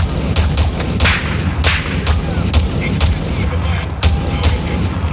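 Rapid bursts of gunfire and explosions from the Ghost Recon video game, with sharp reports repeating every half second or so over a dense, steady battle din, and shouted voices mixed in.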